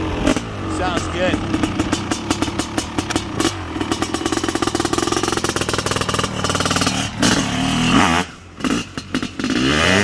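A 1997 Honda CR500R big-bore two-stroke motorcycle engine crackles loudly and close in a rapid, rough idle, rising into sharp revs with brief dips near the end.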